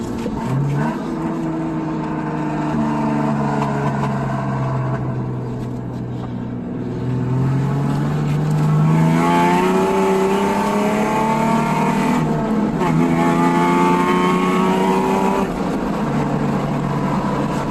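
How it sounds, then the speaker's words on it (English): Ford Mustang V6 with a five-speed, Mach 1 exhaust, BBK X-pipe and no catalytic converters, revving and accelerating through gears, engine pitch rising and dropping repeatedly, loud and close. "It's got Mach 1 exhaust with BBK X pipe. No cats, obviously."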